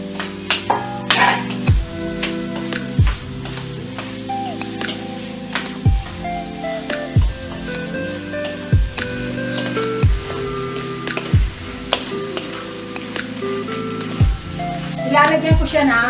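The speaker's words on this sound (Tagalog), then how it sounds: "Kapag naprito na yung bawang, pa-fry ko ng konti ang mushroom" Mushrooms fry in a pan with already-fried garlic, giving a light steady sizzle that runs under louder background music.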